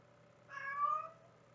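A house cat gives one short, mid-pitched meow, fairly faint and close, rising then falling over about half a second against a quiet room hum.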